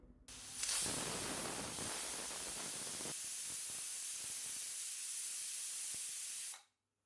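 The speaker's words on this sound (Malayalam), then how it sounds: "സ്റ്റീമൊക്കെ ഒന്ന് പോയി കഴിഞ്ഞാൽ കുക്കർ ഓപ്പൺ ചെയ്യാം" A pressure cooker releasing steam, a loud, continuous close hiss that rises quickly, holds steady for several seconds, then cuts off abruptly.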